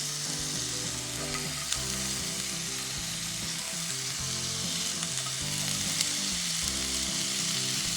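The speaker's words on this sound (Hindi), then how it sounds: "तेल गरम होते ही हम इसमें ऐड कर देते हैं कुछ सब्जियाँ।" Three-colour capsicum, cabbage and sweet corn frying in hot oil in a pan, a loud, continuous close sizzle with a faint stirring rasp underneath.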